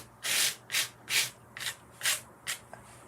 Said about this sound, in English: can you hear the sandy texture? The sand going through the stencil?